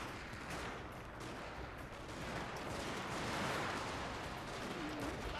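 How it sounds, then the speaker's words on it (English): Line infantry musket volleys in Total War: Shogun 2 Fall of the Samurai, a dense, continuous crackle of massed gunfire rolling without pause, steady and loud throughout. "my line infantry seem to have a good line of sight on the enemy on the other side here, so I'll order them to shoot there"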